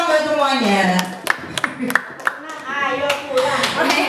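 Rhythmic group clapping led by a teacher in an Indonesian classroom or training session, sharp claps in patterned bursts between stretches of spoken instruction, with voices talking over and around the clapping.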